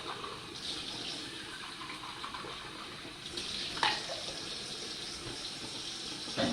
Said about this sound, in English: I'm gonna rinse all my stuff while it's still wet.